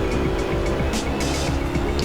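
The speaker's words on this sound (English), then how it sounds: "BMW able to put its power down and accelerate better out of the corners, where the Nissan GT3 comes on towards the end of a fast run" GT3 race cars, a BMW and a Nissan, accelerating around the twisty Zandvoort circuit in the Assetto Corsa sim, a steady droning engine note held at high revs for a couple of seconds.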